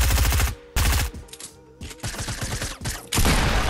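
Pump shotgun blasts in Fortnite Battle Royale fire as loud, close bursts in rapid succession, with brief gaps between clusters of shots.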